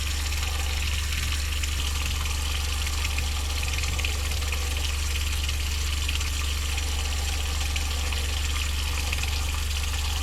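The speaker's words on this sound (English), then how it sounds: "let's go run some water in the sink" Water runs steadily into a sink inside an RV, a constant close hiss over a low pump-like hum with no talking.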